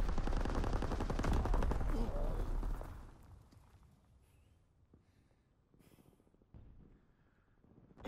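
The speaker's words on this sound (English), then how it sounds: "Incoming enemy artillery! Get to cover!" Heavy artillery and rapid gunfire from a Call of Duty battlefield roar loud and dense, then cut to a quieter stretch with scattered distant bursts and rumbles.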